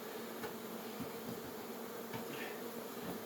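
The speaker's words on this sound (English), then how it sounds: "Because we got lots of bees." A steady, dense hum of many bees buzzing close by, continuous and even, with faint bumps and clicks underneath.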